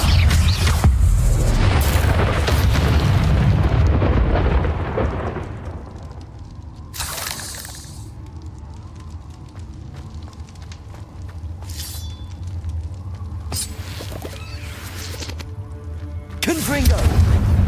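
Spell blasts and booming explosions from the Confringo fire curse in the video game Hogwarts Legacy, loud and dense at first, then a quieter rumbling stretch broken by sharp bursts, with a voice speaking over the action.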